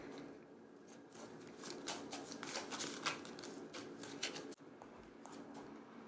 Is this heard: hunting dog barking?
no